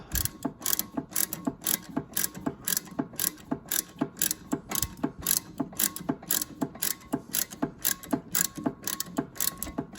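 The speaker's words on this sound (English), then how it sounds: "And just tighten with the ratchet" A hand ratchet wrench works a nut loose on a Smart Fortwo 451, giving a close, steady series of sharp metallic clicks in quick repeated strokes with brief pauses between.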